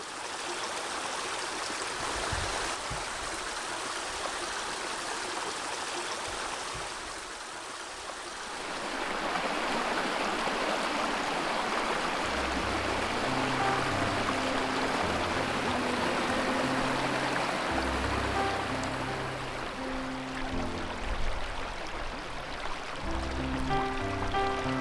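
A mountain stream rushes beneath a snow bridge near Narvik in warm weather, a steady broadband roar of flowing water that swells louder partway through, with low thumping rumbles underneath and no voices.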